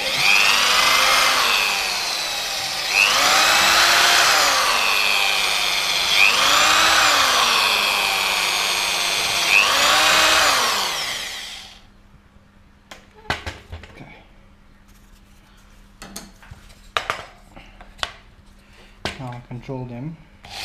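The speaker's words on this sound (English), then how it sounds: "you start drilling holes." A power drill whines loudly in four rising-and-falling bursts while drilling holes in a drone motor mount, then stops, followed by scattered clicks, handling noises and brief speech.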